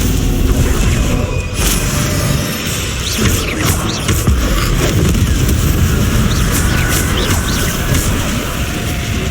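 Spell effects cast in the Hogwarts Legacy video game: loud crashing blasts and booms, several sharp impacts spread across a dense, continuous roar of combat noise.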